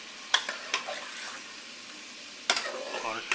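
Beef korma with black pepper, cloves and salt being stirred in a pot, with a few distinct scraping clanks of the spoon and a faint sizzle between them in an otherwise quiet kitchen.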